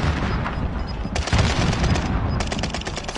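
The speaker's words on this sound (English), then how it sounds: "Grenade's flying." Call of Duty firefight with a grenade blast amid dense gunfire: loud rapid bursts and booms crowd the whole stretch, with two sharp surges of noisy impact, no speech.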